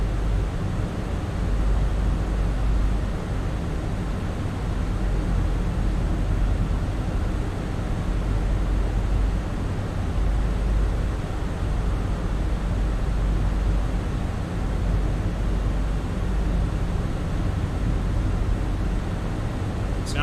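Cockpit ambience of a Fenix A320 airliner in Microsoft Flight Simulator, a steady broadband engine and airflow roar that stays constant and fairly loud throughout, with no voices.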